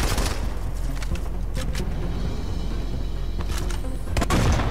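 Gunfire in the shooter game Modern Combat 5: Blackout comes as scattered sharp shots and short bursts over a dense low rumble of battle, with a heavier cluster of shots near the end.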